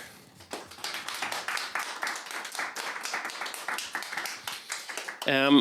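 Audience applause welcoming a panel of experts at a hybrid civil society event, scattered but continuous clapping throughout, with a brief burst of another sharper sound at the very end.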